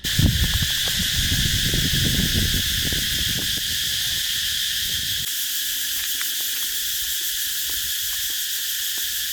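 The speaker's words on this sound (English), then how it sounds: "But I'm gonna walk towards the cicadas" Cicadas on the tropical island of Koh Chang give off a loud, continuous high-pitched buzzing drone that holds steady throughout, while footsteps and rustling rise and fall beneath it.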